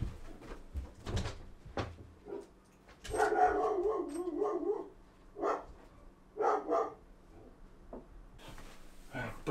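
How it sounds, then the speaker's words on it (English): A pet dog barks in bursts inside a home after a knock at the door, several loud clustered barks with pauses between them, alongside door and household clatter. "Bloody dog going crazy all the time."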